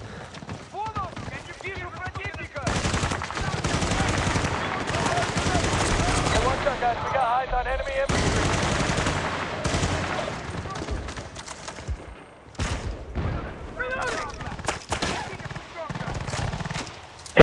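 Rapid automatic gunfire from a Battlefield 2 multiplayer match comes in dense, loud bursts across most of the stretch, with brief pauses between volleys and player voices talking over it.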